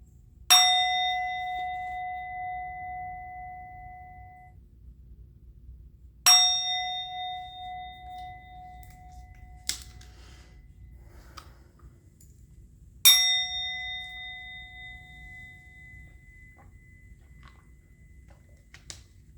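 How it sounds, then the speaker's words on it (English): A bright metal bell is struck three times, each ring clear and lingering as it slowly fades, with quiet pauses between strikes. "I'm going to ring the bell."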